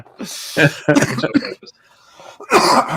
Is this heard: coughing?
yes